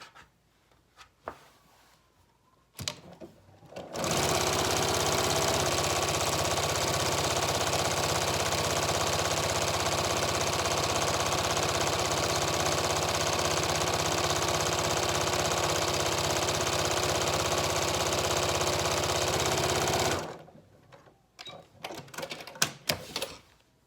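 A sewing machine stitching fabric scraps into a strip runs in one long steady rapid whir for about sixteen seconds, bracketed by brief handling clicks and fabric rustle before and after.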